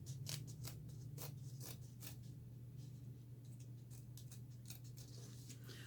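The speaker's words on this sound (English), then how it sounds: "Okay, so I'm just going to cut this right here." Scissors cut thread for cross stitching in a series of quick, crisp snips, faint over a steady low hum.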